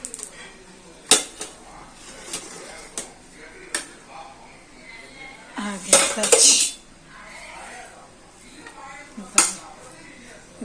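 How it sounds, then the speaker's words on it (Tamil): A metal ladle knocks and scrapes inside a cooking pot of coconut ghee rice, sparse clinks and scrapes with one louder clattering burst midway, close by over a quiet background. "நான் வந்து இந்த கரண்டியே உள்ளே விட்டு எடுத்துடுறேன் பாருங்கள்."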